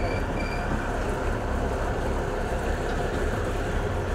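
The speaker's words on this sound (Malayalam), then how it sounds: "മൂവാറ്റുപുഴയിൽ നിന്ന് വന്ന മരോട്ടിക്കൽ ട്രെയിൻ സർവീസാണ്" A train passes with a loud, unbroken rumbling roar that holds steady from start to finish, with no voices.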